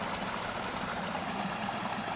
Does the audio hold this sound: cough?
no